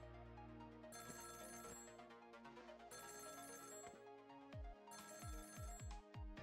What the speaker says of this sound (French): t'as le numéro de téléphone, c'est le mec qui appelle dessus